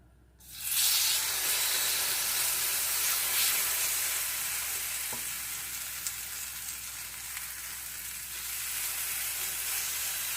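Batter made of 100% buckwheat, with no wheat flour, hits an oiled frying pan and breaks into a loud, continuous close-up sizzle that holds steady to the end without any talk.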